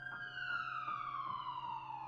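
An emergency siren arriving as fire brigade and ambulance respond to a reported accident, a loud wailing tone sweeping steadily downward in pitch over a faint repeating pulse.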